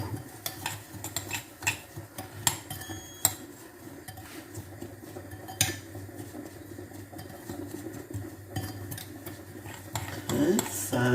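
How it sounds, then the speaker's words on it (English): Breadcrumb and herb mixture stirred in a bowl for herb-crusted salmon, with steady scraping and frequent clinks of a utensil against the bowl over a low background hum, close and continuous. "so mix up your breadcrumbs"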